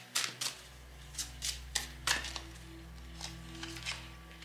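Tarot cards are shuffled and laid down, giving a series of crisp slaps and soft riffles spaced about half a second apart, close and fairly quiet over a low steady hum.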